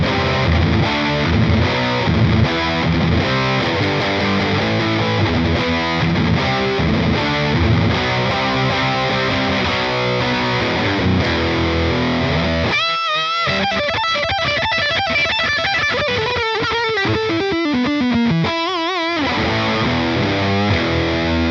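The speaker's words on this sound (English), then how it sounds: "So we start getting into some of those 80s rock tones there." A heavily distorted electric guitar plays through a tiny Hughes and Kettner Spirit Nano amp, dialed to 80s rock tones, with chunky riffs and sustained ringing notes, then a bending lead line, loud and continuous with no talking.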